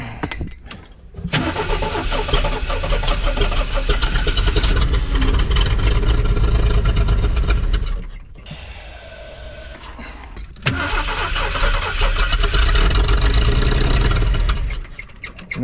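A 1982 Ford Econoline van engine that sat unused for ten years cranks loudly with uneven compression, catches and revs, drops off briefly, then cranks and runs again close to the microphone.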